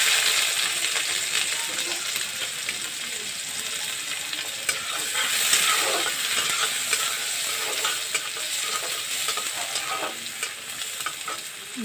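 Chopped onions sizzle and fry in a pan for restaurant-style chilli chicken, a steady broadband crackle with scraping stirring clicks throughout, close and fairly loud, no talking.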